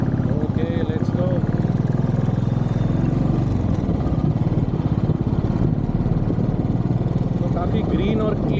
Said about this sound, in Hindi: जो बाइक अभी मैं चला रहा हूँ which is royal Enfield classic 350